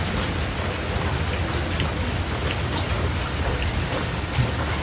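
Heavy rain falls in a dense, constant hiss of drops on surfaces, even and unbroken, with no voices.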